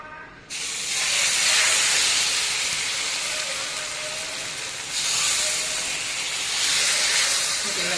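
Rava dosa batter and oil sizzle on a hot pan, a steady loud hiss that swells and eases in waves, heard alone with no talk.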